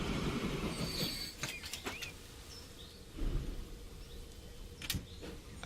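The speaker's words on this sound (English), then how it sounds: "we'll sit here and wait for this train to come in" A freight train arrives in the Transport Fever 2 game with faint rolling rumble, clicking wheels and a few sharp brake squeals and clanks over several seconds, with no voices.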